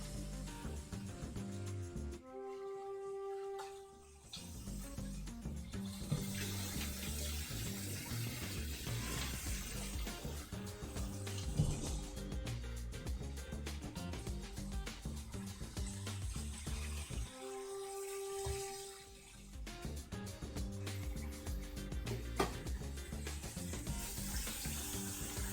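Water runs steadily from a sink tap while hands are washed in a home kitchen during steak prep, a constant close splashing rush with a couple of brief dips in the flow.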